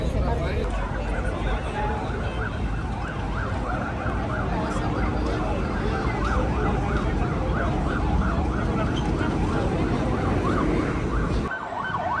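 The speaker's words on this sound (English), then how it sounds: "Ambulance coming through." An ambulance siren wails steadily nearby outside the walled city of Cartagena, Colombia, its rising and falling tone cycling over busy street noise and talking voices.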